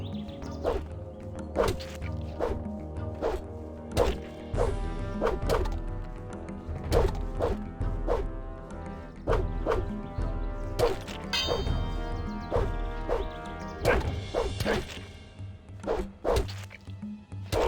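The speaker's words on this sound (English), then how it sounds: "They're smashing each other's skulls." Video game characters smashing each other's skulls: repeated sharp, heavy whacks and thuds in an irregular rhythm over a layered game soundtrack, close and loud, with no talk.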